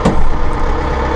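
Massey Ferguson 1755M compact tractor with eHydro drive raising its hydraulic loader to full lift height, a steady, loud engine and hydraulic drone holding level throughout, close by with no talk.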